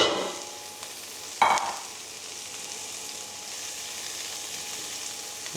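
Onion hits hot bacon fat and olive oil in a pan with a brief loud burst of sizzle, settling into a steady soft frying hiss over low heat.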